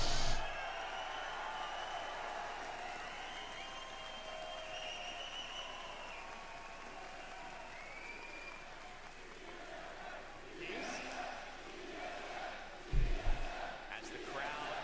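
A large crowd roars and cheers steadily in a big open space at an Apex Legends esports finals watch party, with shouts rising and a few loud bursts toward the end.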